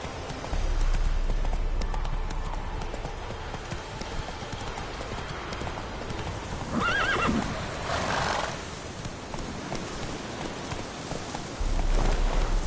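Roach, a horse in The Witcher 3 video game, gallops with steady clip-clopping hooves and gives a whinny midway, all under a rain-like ambient wash.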